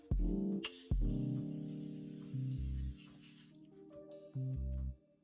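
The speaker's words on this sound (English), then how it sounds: "To set the face, we're going with the Morphe Setting Mist." Morphe Setting Mist sprayed onto a face during a makeup routine: a few short, hissy bursts under steady background music.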